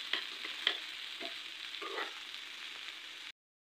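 Fish and potatoes sizzle in a pan while being turned with a spatula, a steady hiss of frying oil punctuated by a few scraping, clattering stirs, close up with no talking, then cutting off abruptly.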